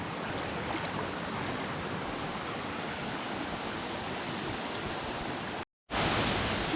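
A waterfall in Boquete, Panama pours in a steady, loud, broadband roar that fills the whole stretch without a break. It cuts out briefly near the end and then resumes just as strong.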